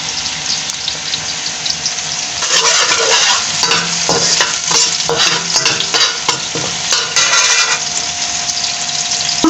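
Chopped garlic frying in hot oil in a pan for mandi, a loud steady sizzle close up with stirring scrapes and crackles building through the middle, no talking.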